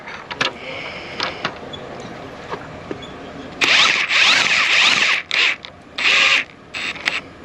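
Ratchet or power tool loosening front or rear brake rotor bolts on a 2007–2008 Suzuki GSX-R 1000, in close, loud bursts of a few seconds separated by pauses and small clicks.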